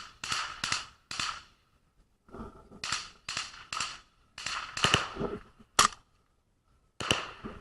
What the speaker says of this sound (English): another Russian out in the distance that's firing at something